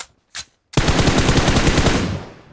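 Sustained burst of automatic gunfire in PUBG Mobile, preceded by two short isolated shots, loud and close, fading out at the end with no talk over it.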